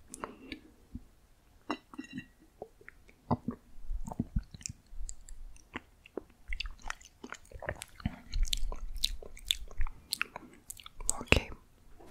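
Chocolate mochi is chewed close to the microphone in a tasting session, with soft sticky smacks, small clicks and mouth sounds that come in uneven bursts. Quiet speech and whispers break in between the chews.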